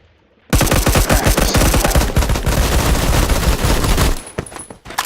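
Submachine gun in the video game Phantom Forces, a Sten or Grease Gun, fires a loud sustained automatic burst of rapid close shots lasting several seconds, then cuts off abruptly.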